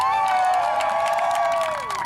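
An indoor crowd cheers for a player named Tyler at an Army versus Navy event, a loud sustained roar of voices with a bright tonal whistle or horn over it.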